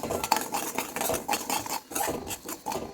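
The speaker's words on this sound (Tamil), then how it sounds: "இப்போ இந்த ரவை நல்லா பொங்கி பொரிஞ்சு வரது பாருங்கள், நல்லா பொரியுது" Semolina (rava) roasting in a pan for Chettinad-style kesari, stirred with a utensil that scrapes and clinks against the metal in a steady rhythm of repeated strokes, close and fairly loud, with no talking.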